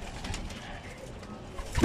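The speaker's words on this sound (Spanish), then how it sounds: "lo que son las tórtolas, tórtolas collarines" Soft, low collared dove coos in the background, ending with a louder, closer coo; brief and fairly quiet.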